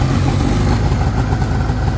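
A rebuilt Ski-Doo Formula Mach 1 snowmobile with a Rotax 617cc two-stroke engine idling close by, a loud, steady, rough burbling drone with no voices.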